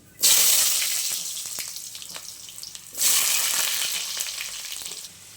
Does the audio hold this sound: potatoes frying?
yes